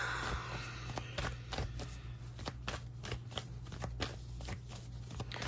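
Tarot cards being shuffled up close in a steady run of crisp riffling bursts and flicks that repeat over several seconds, with no talking.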